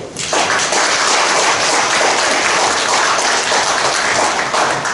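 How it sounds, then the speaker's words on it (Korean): Loud, dense applause fills a citizens' dialogue meeting with the Hwaseong mayor in Mado-myeon, a sustained wash of many hands clapping at once. "우리 세 분께 우리 도와주기 위해서 감사하는 박수 한번 크게 주십시오."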